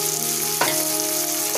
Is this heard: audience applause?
no